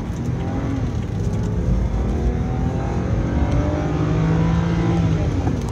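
A BMW accelerates and turns during a test drive. A loud engine drone, heard from close up, rises and holds steady with road noise underneath, and no one speaks.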